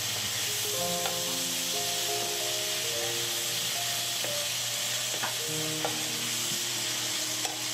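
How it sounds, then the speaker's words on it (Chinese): Twice-cooked pork belly with chili bean paste and soy sauce stir-fried in a wok, a steady sizzle with repeated scraping stir strokes over a low hum of the burner, close and continuous. "再将所有食材翻炒一下"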